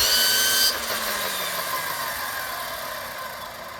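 A Ryobi brush cutter attachment whirs loudly at first, then drops abruptly in pitch after about a second and winds down into a fading spin.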